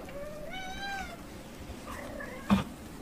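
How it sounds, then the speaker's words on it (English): A talkative female cat gives a couple of short, chirpy meows close by, the first one rising and stretching out, followed by a small trill and a brief bump of noise near the end. "Oh, she has such a cute meow."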